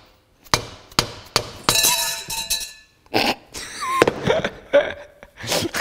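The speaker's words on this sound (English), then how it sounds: "Maybe a little light touch with a hammer." Sharp metallic taps from a small hammer on a handmade knife being removed from a jig, a scattered series of ringing strikes at uneven intervals, close and clear with no talk.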